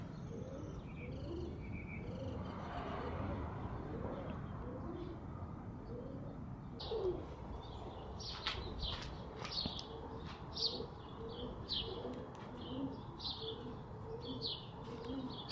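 Young pigeons in a kit fly and coo in the open air, with soft repeated coos and chirps layered over a steady outdoor background and a few brief wingbeat flutters.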